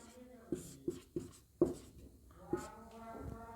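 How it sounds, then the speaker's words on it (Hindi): Chalk scratches and taps across a board as a Class 10 arithmetic progression math question is written out, with several distinct strokes in an uneven rhythm, fairly faint against a quiet room. "यहाँ पे लिखेंगे प्रश्न"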